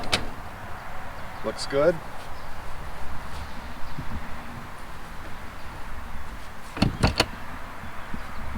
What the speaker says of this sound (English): We'll try the screen door first.